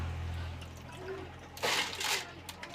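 Wheat grains being washed in water, a quiet low hum at first, then a burst of splashing and sloshing water midway, followed by lighter trickles and drips.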